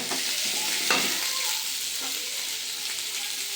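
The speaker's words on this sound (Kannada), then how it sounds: "ಸ್ವಲ್ಪ ಲೈಟಾಗಿ ಕಂದು ಬಣ್ಣ ಬರೋವರೆಗೂ ಫ್ರೈ ಮಾಡ್ಕೊಳ್ಳಿ." Sambar base frying in oil over a high flame, a steady close sizzle with a couple of brief spoon scrapes, constant and fairly loud throughout.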